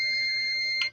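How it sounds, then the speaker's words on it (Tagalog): The lid lock buzzer of a top-load automatic washing machine sounds a loud, continuous electronic tone for about a second, then cuts off abruptly. "Nagbo-buzzer na po siya."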